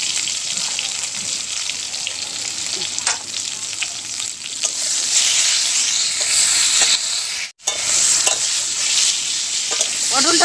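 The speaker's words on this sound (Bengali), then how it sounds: "ওই তেলেই এবার আমি পটলগুলো ভেজে নেব" Pointed gourd (potol) sliced and salted, frying in oil in a pan, gives a steady, close hiss of sizzling with occasional stirring scrapes, one brief dropout near the end, and no voices.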